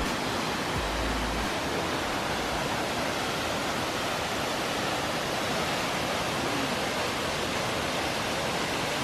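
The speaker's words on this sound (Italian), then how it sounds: "tecnicamente sono venuta a vedere le cascate, cioè bellissime cascate" A waterfall in Morocco roars in a steady, dense hiss of rushing water, loud and unbroken throughout.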